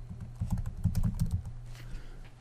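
Keystrokes on a computer keyboard as PowerShell is typed into the Windows 10 search bar, a quick burst of close, soft taps that thins out toward the end.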